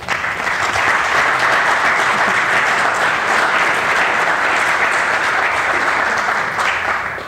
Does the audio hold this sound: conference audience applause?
yes